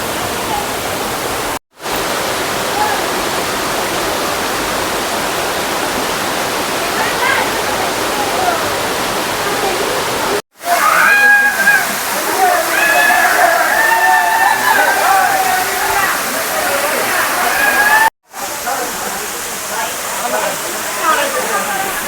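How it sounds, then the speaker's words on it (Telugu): A broad, steady roar of the Ranajilleda waterfall fills the scene, with people talking and calling in the middle stretch over the rushing noise. "అవతలేమో వాటర్ ఉంది వాటర్ పడుతుంది"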